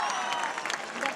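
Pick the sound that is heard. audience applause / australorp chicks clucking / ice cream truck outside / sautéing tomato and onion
audience applause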